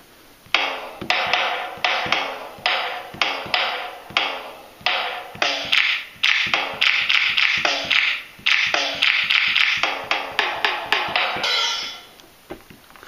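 Drums tapped out on the Shiny Drums iPhone app, a busy run of crisp, sharp percussive hits in quick irregular rhythm, loud and close, with no talking.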